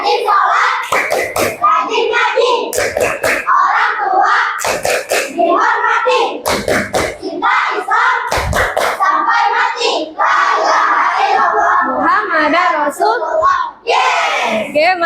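A group of children clap their hands in rhythmic patterns while chanting a clap song together in a classroom, loud and close, with sharp claps punctuating the continuous sing-song group voices.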